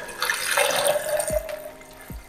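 Film developer liquid is poured and trickles at close range. A steady stream tails off into a couple of distinct drips near the end.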